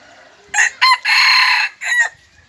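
A young fighting rooster crows loudly and close, one full cock-a-doodle-doo in several bursts with a long held middle note, alone with no talk.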